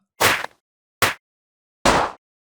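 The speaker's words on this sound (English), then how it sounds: "The first is powdered snow breaking" Three short crunchy bursts of Minecraft powdered snow blocks breaking, trimmed short, each separated by brief silence.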